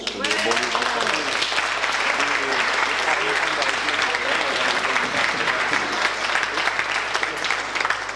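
A hall audience at a 50th anniversary event claps for the organizers, a loud, sustained, dense wash of applause throughout, with a few voices calling out beneath it.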